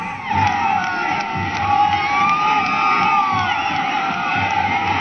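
A huge outdoor crowd of thousands, women among them, cheers and whoops nonstop for Prime Minister Modi as he walks among them under showered flowers. It forms a loud, dense, steady roar of shouting voices.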